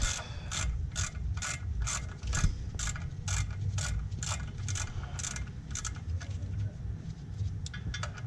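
A ratchet removes the 6 mm clutch-to-flywheel bolts on an Audi A4 during a rear main seal job: rapid, evenly spaced bursts of clicking repeat close by at a low level, with no talking.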